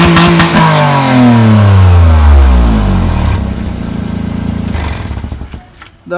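A Maruti Alto engine is revved hard with the throttle cable pulled by hand, the pitch sweeping up and then dropping back to a lumpy idle. It is loud and close, with no talking.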